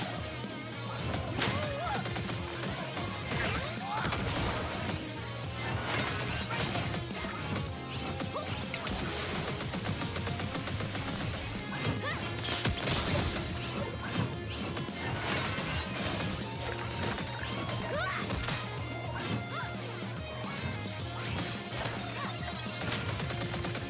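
Gate crashing in the Starlight ReVolver video game produces a dense barrage of smashing, crashing hits and whooshing effects over a thumping game soundtrack, loud and continuous with rapid repeated impacts.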